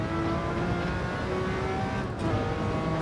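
A Group C race car runs at full throttle in Gran Turismo 7, its engine a steady, loud, high-revving drone held throughout without any talk.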